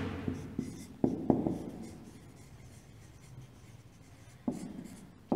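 A teacher writes on a board during a class, a few sharp taps and strokes spread across quiet stretches, moderately close, with no talking.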